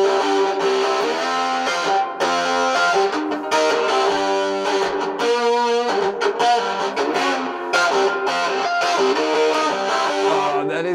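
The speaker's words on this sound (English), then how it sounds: "I'm on distortion with the top pickup." A Risa TE electric tenor ukulele, telecaster-style, is strummed through an amp on distortion with the top pickup, with sustained buzzing chords, a brief pause and rhythmic changes over eleven seconds.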